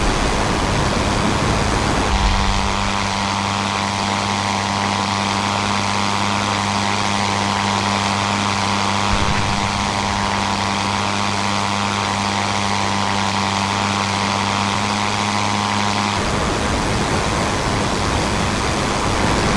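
Rotary engine of a WWI aircraft in the flight simulator Rise of Flight, 1916 line patrol: a steady droning hum with strong low harmonics runs loud and continuous for about fourteen seconds, then cuts off, with no talking.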